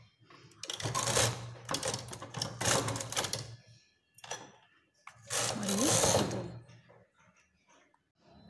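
A sweater knitting machine runs rows, its carriage clattering in rhythmic mechanical bursts with short pauses between passes, heard close and fairly quiet.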